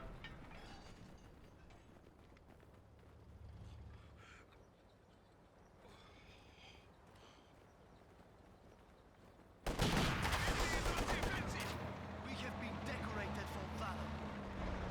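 Grenadier rifle fire in Company of Heroes 2, scattered distant shots under steady battle noise and someone commentating, then a sudden jump to louder, denser gunfire.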